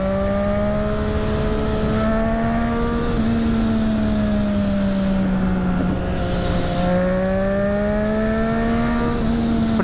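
A 600cc motorcycle accelerating on a night ride, its engine whine rising and falling through the gears in long pulls, close and loud, with steady wind rush.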